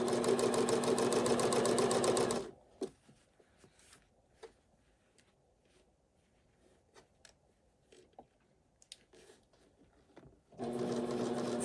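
A sewing machine stitches fabric panels for a welding cap in a fast whirring burst, falls quiet for several seconds with faint handling clicks, then starts running again.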